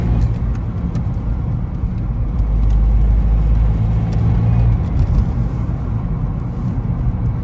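A BMW 120D diesel fitted with an upgraded stage 2 turbo drives along, its steady, loud engine rumble and road roar filling the cabin continuously with no talking.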